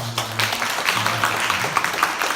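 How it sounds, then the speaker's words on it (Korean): A church congregation at a Sunday morning service claps to welcome a guest, a short burst of applause mixed with some low murmuring voices in the hall. "박수로 환영해 주시면"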